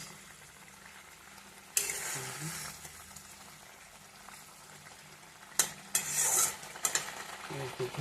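Onion and garlic frying in mustard oil until browned, a steady low sizzle broken by bursts of stirring and scraping in the pan, louder near the end.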